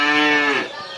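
A one-year-old Belgian Blue cow lets out a single loud, close moo that holds steady and then trails off, with no other sound around it.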